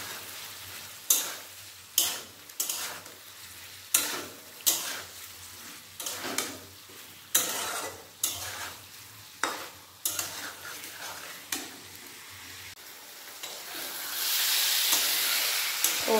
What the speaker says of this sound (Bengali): এর মধ্যে আমি দিয়ে দেবো ভেজে রাখা ওল আর আলুটা মশলার সাথে কষিয়ে নেব।